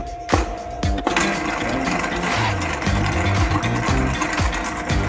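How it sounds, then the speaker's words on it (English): An electric stand mixer starts up to whisk egg whites for a meringue, giving a steady loud motor whir with shifting mechanical rattles and pitch changes throughout, no voices. "we're just going to get the mixer starting to go so that we can start them off"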